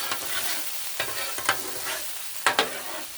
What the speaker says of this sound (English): Let's mix that up, get it stirred up.